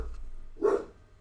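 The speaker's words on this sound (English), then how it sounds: "Sorry, that's my dog." A dog in the house gives a single short bark, loud and fairly close, against quiet background hum.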